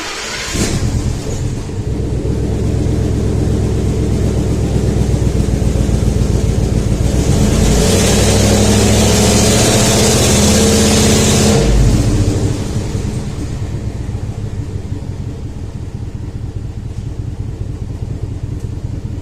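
A 2012 Ford F150 with a 5.0L V8 and random misfire codes cranks, fires and runs: a loud, throaty engine roar that swells in the middle with a rising rev, then settles into a steadier, quieter rumble.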